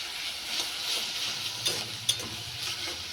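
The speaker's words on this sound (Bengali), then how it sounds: "এটা ভাজা হতে থাক" A pan of sliced dudhkushi frying with a cumin tempering gives a quiet, steady sizzle, with a couple of small clinks partway through.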